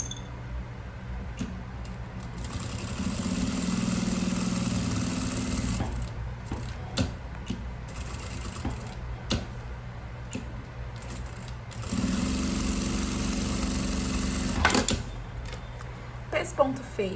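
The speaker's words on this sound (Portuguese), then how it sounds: "Agora eu vou fazer um pesponto de um lado" A sewing machine topstitches a floral makeup bag, running in two steady whirring bursts of several seconds each, separated by quieter handling and clicks, with someone speaking throughout.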